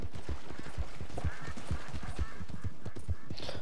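Horse hooves gallop in a steady, rhythmic clip-clop within the open-world game Red Dead Redemption 2, moderately quiet and close, repeating evenly with faint ambient background and no speech.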